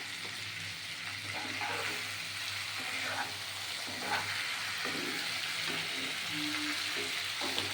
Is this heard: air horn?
no